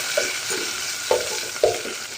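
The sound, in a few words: frying ginger, green chili, mint and coriander in oil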